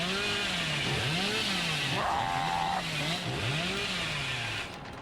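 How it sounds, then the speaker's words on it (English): A video game chainsaw revs continuously, its buzzing engine pitch rising and falling in repeated waves at close range, with a brief higher whine partway through and a slight drop in level near the end. "I actually canceled that chainsaw."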